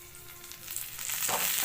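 Hot tempering of spices in oil poured onto salted curd for beetroot chapati, giving a dense, close, steady sizzle that swells louder and brighter toward the end, with no voices.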